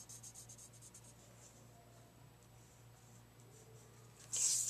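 Pencil scratches quietly on paper as a simple spooky house is drawn for kids, with soft repeated strokes over a low steady hum and a brief louder rustle at the end.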